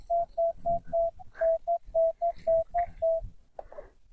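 A metal detector sweeping over a buried copper coin in a meadow gives a series of short, evenly spaced tonal beeps, loud and close, with a brief pause and a rustle near the end.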